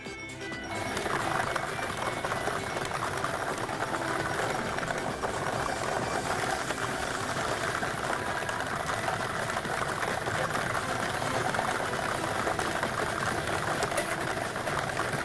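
A lottery drawing machine churns its balls before a televised jackpot draw, a dense, continuous rattling clatter of tumbling balls heard close and loud for the whole stretch.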